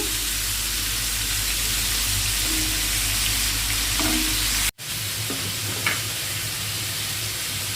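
Prawns cut in pieces frying in hot oil for a Telugu-style prawn biryani, a steady close sizzle and hiss with occasional stirring scrapes, briefly cut by a sharp break midway.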